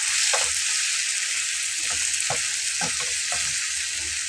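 Dried loitta fish and potatoes sizzling in a pan, a steady loud hiss of frying with a few soft clicks and stirring knocks, close and alone.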